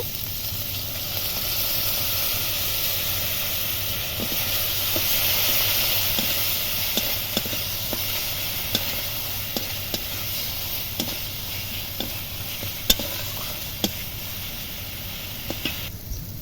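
Chili and turmeric powder paste, mixed with water, sizzling in hot oil for a koi fish curry: a steady close frying hiss with occasional light stirring taps and clicks, no voices.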